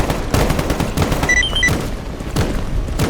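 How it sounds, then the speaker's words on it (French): Gunfire in the video game S.T.A.L.K.E.R., a series of sharp, loud shots with several rapid bursts and a few brief electronic tones partway through, with no voices. "Ça se tire dessus là-bas."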